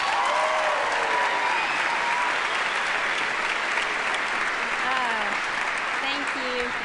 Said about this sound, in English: Give it up, Debbie Smith.